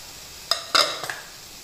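Vegetables and spices frying in oil for a restaurant-style vegetable biryani: a soft background sizzle broken by a few sharp clanks of a spoon or ladle against the pot, about three knocks close together.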